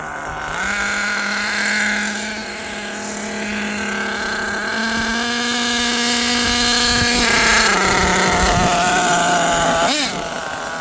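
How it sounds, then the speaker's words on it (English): The small gas engine of an HPI Savage XL V2 RC truck drones loudly and steadily with a buzzing whine, its pitch shifting up a step partway through and dropping near the end. "So I just want to show you guys the truck running amazing."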